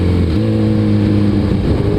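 A Suzuki Hayabusa liter-class sport motorcycle engine runs loud and close with a steady, deep humming drone that shifts slightly in pitch while riding.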